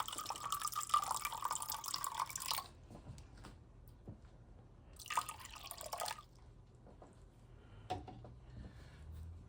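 A cup of water poured into a beaten egg batter for frying green tomatoes and tilapia, a close splashing pour in two bursts, with soft drips and quiet kitchen handling in the pauses.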